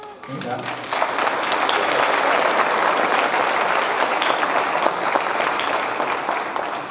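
Audience at a Christmas concert by HKD Napredak in Ilijaš bursts into loud, sustained clapping that fills the hall, following a brief spoken line at the start.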